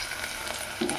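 Sliced onions fry in a pan for egg masala curry, a steady close sizzle with a brief stirring scrape near the end.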